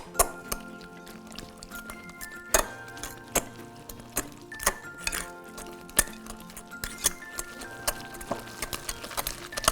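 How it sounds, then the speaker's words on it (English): A fork whisks batter with milk in a bowl for courgette fritters, rapid irregular clinks and taps against the bowl with soft liquid sloshing, close and continuous, no talk. "we just get a fork and give it a nice whisk together"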